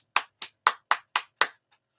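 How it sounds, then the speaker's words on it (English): Six sharp, evenly spaced hand claps ring out close and alone in a quiet room, followed by a faint seventh. "let's give me the clap now"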